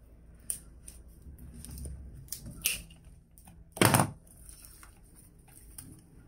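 Scissors snip old orchid flower spikes in a few quiet, close, sharp clicks, one louder cut standing out, with soft handling rustles between.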